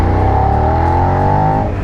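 A 2016 Suzuki SV650 motorcycle engine revs with a loud, steady, rising drone that climbs in pitch before easing off, heard up close and alone.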